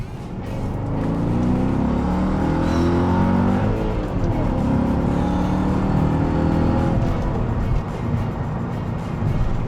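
A 200k-mile Mercedes E55 AMG wagon swapped to a manual gearbox pulls hard under acceleration, its engine roaring loud and rising in pitch through a long sustained run heard from inside.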